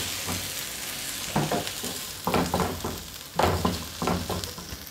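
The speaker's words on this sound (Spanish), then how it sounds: "Dejamos sofreír un rato." Chopped tomato and onion sautéing in a pan, a loud steady sizzle punctuated by several bursts of spoon stirring and scraping at irregular intervals, close and without speech.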